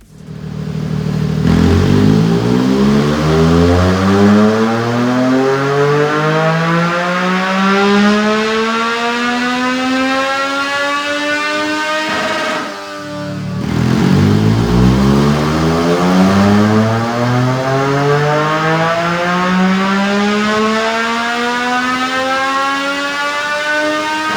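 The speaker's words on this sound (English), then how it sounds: "So I'm gonna load this bike up on the dyno" A Triumph Daytona 660 motorcycle fitted with velocity stacks revving on a dyno, two loud rising pulls up through the gears with a brief dip between them, the engine pitch sweeping steadily upward each time, no talking.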